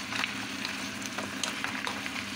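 Steady oily sizzling of mussels frying in a pan fills the clip without pause, with small crackles and pops rising out of the continuous hiss.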